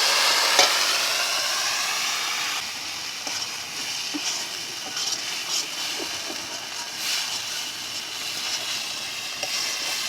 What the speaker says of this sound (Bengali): অল্প আমি একটু জল দেবো, দিয়ে মশলাটা ভালোভাবে কষে নেব।